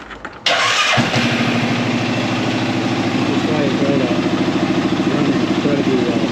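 An Arctic Cat Prowler engine cranks after a brief quiet moment, catches at once and settles into a loud, close, steady idle with a rhythmic mechanical pulse.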